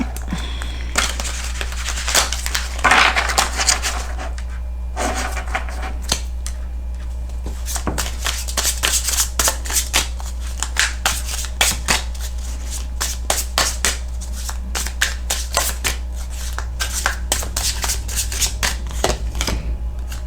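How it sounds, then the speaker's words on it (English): Thick tarot cards are shuffled by hand at close range, giving a steady run of crisp riffling slaps and flutters with brief pauses, alone with no talking. "these cards are thicker, so it's a little more difficult to shuffle these like a regular deck"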